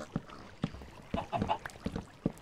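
Several short, loud duck-like quacks from a duck in Minecraft come in quick succession, close and clear, with brief gaps between the calls.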